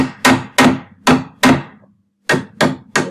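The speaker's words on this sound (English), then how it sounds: "this is a crafting hammer. It's meant to be tiny." A tiny crafting hammer with a ball on one side strikes sharply and closely: four evenly spaced hard taps, a brief pause, then three more taps in the same steady rhythm.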